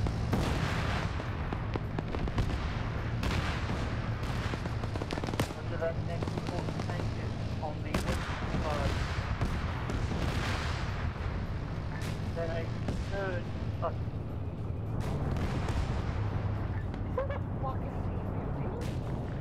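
Distant gunfire and booming artillery from a military video game convoy-blocking operation, with repeated thuds and cracks rumbling behind steady radio-style talk.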